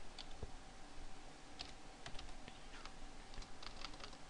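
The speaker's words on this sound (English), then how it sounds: "My brain's just typing a quick password." Someone types a quick password on a computer keyboard, a faint scatter of light clicking keystrokes at an uneven pace in a quiet room, with no voices.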